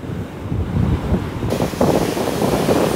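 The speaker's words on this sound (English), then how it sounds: "Foaming waves and nothing but foaming waves." Foaming ocean waves surging and washing with gusty wind buffeting the microphone, a loud, continuous roar that swells partway through, no voices present.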